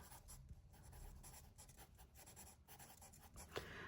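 A gold marker scratches across the back of an item to write a price, several short, quiet strokes close up, with no talking.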